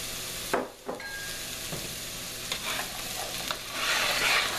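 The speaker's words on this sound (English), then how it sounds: "Let me just stir those around. And we'll just let those saute up." Chopped onion, celery and carrots sizzle in a hot pan for a bolognese sauce while a utensil stirs them, with scraping strokes over a steady frying hiss that swells louder toward the end.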